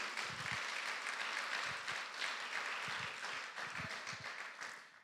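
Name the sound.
applause in a church congregation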